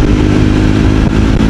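A Triumph Scrambler 400 XC motorcycle engine drones loudly and steadily close by while accelerating in fifth gear at highway speed.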